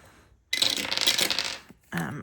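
Two eight-sided dice rolled by hand onto a surface, a clattering, rattling burst of about a second, then a short pause, then a brief murmur of talk.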